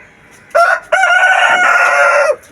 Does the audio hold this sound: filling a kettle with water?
no